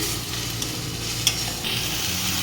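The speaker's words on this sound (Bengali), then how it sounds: "এখন আমি আদা রসুনের পেস্টটা দিয়ে দিচ্ছি এটাও আমি একইভাবে কষিয়ে নিচ্ছি" Ginger garlic paste sautés in a pan while prawn malai curry is being cooked, a steady close sizzle with a faint low hum and one brief clink of utensil partway through.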